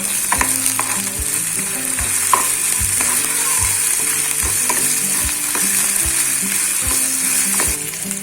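Nasi goreng mixture of ginger-garlic paste and salt sizzles steadily in a hot pan, a continuous loud frying hiss with regular clicks and scrapes from stirring, no voices.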